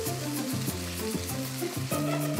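Breaded dumplings fry in oil in a pan, a continuous close sizzle with a few light stirring knocks, and no one speaking.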